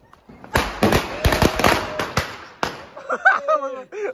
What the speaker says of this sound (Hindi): आप फोड़ दो स्कैशॉट, फोड़ लो बम, फोड़ लो कुछ तो फोड़ लो